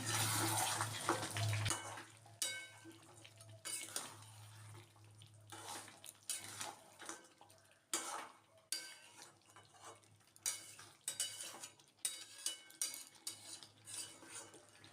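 Mutton is stirred in a pot over low heat for a thin red curry, with repeated scraping and knocking of a spoon against metal in uneven bursts over a quiet background and no talking.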